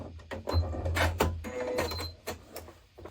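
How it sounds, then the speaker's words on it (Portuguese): A sewing machine backstitches over a seam on a kitchen stove cover in short, uneven mechanical bursts with clicks and knocks, close and moderately loud. "vou passar por cima da outra costura, dando um retrocesso"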